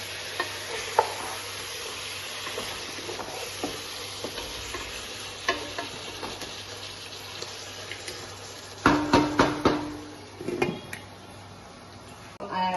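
Meat cooking in a pot for Hyderabadi biryani, a steady close sizzle with scraping stirs and metal clinks, growing busier with several sharp strokes near the end.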